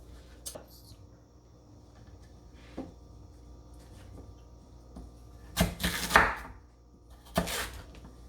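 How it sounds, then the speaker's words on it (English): A knife slices through sweet potatoes on a board in a home kitchen: a few scattered soft cuts, then a cluster of louder, crunchier knocks near the end, with quiet pauses between. "So let me show you how I'm going to slice up."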